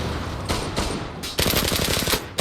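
Automatic gunfire from the online shooter Zula, loud bursts of rapid shots in quick succession, with a brief pause before a longer, denser volley near the end.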